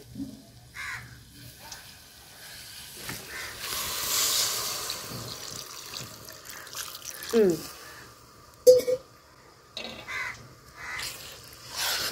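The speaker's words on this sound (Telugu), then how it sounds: "ఇప్పుడు నీళ్ళు వేస్తామండి." Water pours into a pan of potato curry masala with a soft, steady splash lasting a few seconds near the middle, while crows caw nearby and a few voices are heard.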